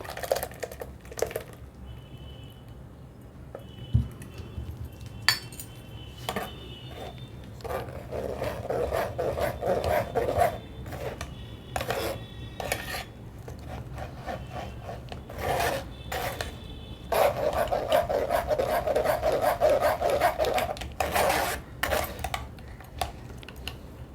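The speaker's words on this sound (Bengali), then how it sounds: "এবার আমি বড় ছাকনি দিয়ে এটা ছেঁকে নেব" A yogurt, watermelon and mint drink is pressed through a large sieve, giving repeated scraping and rasping strokes of a spoon against the mesh along with light clinks, close and fairly quiet.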